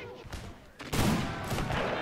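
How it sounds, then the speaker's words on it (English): Troops in a Mahdist Rebellion strategy game open fire in a rifle volley, a dense crackling burst of many shots at once that swells loud and holds, with a quieter lead-in before it. "And I'm gonna tell them to open fire right about now."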